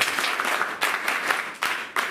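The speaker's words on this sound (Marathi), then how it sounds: "म्हणून यांच्यासाठी पुन्हा एकदा टाळ्या." Audience applause at a Rotary Club educational event held at a girls' school, a steady burst of clapping from a crowd that swells in waves, close and fairly loud, with no talk over it.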